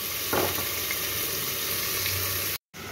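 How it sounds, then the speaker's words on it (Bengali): Potatoes fry gently in a pan over a low flame, a steady soft sizzle with a brief scrape of stirring, close by and without talk. "ধীরে ধীরে আলুগুলোকে ভাজবো আর চাপা দিয়ে দিয়ে ভাজবো"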